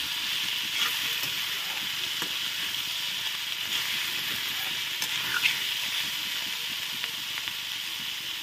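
Tomatoes cooking in a pan, giving a steady gentle sizzle and hiss with faint stirring ticks, continuous and close.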